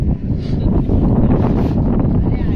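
Strong wind buffets a microphone outdoors on a pilgrimage walk, giving a constant loud, rough rumble with gusting swells and no clear sounds beneath it.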